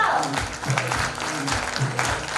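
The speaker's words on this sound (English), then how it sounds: "A big clap for Stephen." An audience claps during a live report presentation on teen pregnancies in Kenya, a moderate, steady patter of hands mixed with low hum and a few brief voice sounds underneath.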